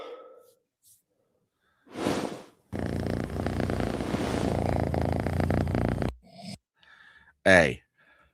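A cat purrs loudly and close up for several seconds, a rough continuous rumble broken by brief pauses, with a few short breathy sounds and a snort-like burst near the end.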